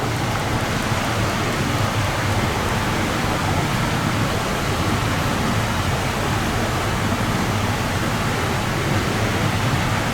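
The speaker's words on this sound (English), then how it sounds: "we're getting a bit of rain" Steady rain falling outdoors near an old mill during a paranormal investigation, a loud, continuous broadband hiss of drops with no voices.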